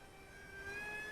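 A KFPlane F-35 RC beginner park jet flies with its electric ducted fan whining steadily, and the sound grows slightly louder toward the end of the brief clip, with no voices.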